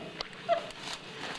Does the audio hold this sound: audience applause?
no